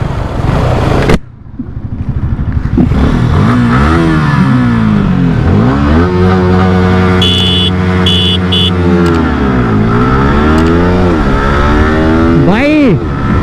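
A Yamaha R15M Carbon Edition and a Bajaj Pulsar NS200 drag race with traction control off, their engines revving loud and close through rising and falling gear shifts for the whole run, with people talking over them.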